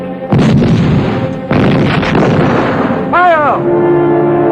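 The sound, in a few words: gunfire in 1969 war film about El Alamein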